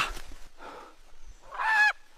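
A chicken's loud honking call rings out near the end, preceded by softer squawks, heard close with no talking.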